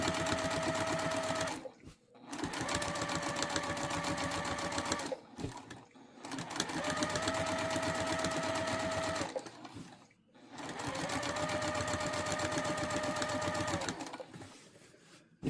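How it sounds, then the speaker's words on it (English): Sewing machine running in long bursts of rapid even stitching during free motion quilting, pausing briefly between runs, close and clear with no talk. "we'll do a couple lock-in stitches, and then we just go cruise in."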